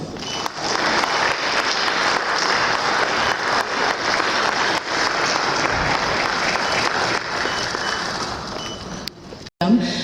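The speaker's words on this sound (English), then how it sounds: "Please join us in giving a warm round of applause." Sustained applause from an audience at a formal national-day reception honoring a symphony executive with a plaque, steady and dense for most of the clip before tapering at the end.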